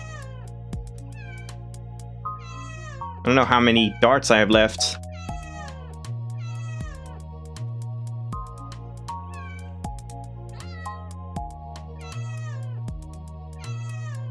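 Cartoonish cats meow repeatedly in a video game, the synthetic cries rising in a steady rhythm over a looping bass line, with a dense burst of overlapping yowls midway while someone talks.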